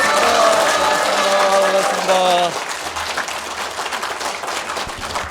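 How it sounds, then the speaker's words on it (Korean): An audience at a political talk show in Chuncheon, South Korea, breaks into sustained applause while someone speaks over it, then the clapping carries on alone. "우리 박수 한번 크게 쳐주시고"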